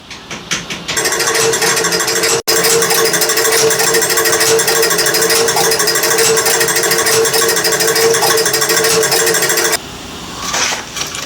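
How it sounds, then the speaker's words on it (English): A pinball machine's score motor runs on and on without stopping, a steady, loud mechanical whir with a dense rattling hum, briefly interrupted by one sharp cut, then dropping to a lower level near the end. "The machine motor just keeps running and running and won't stop"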